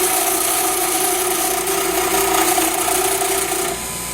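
Wood lathe turning a chopstick blank, a loud continuous motor whine with rattling as a very small cut rides over the spinning wood, steady throughout and dipping slightly near the end.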